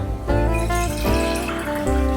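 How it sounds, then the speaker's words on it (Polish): Lemon and ginger tea pours into a mug as a close, continuous liquid stream whose pitch rises as the mug fills, with brief shifts as the flow changes. "Zrobiłam herbatę z cytryną i z imbirem. Nalewamy."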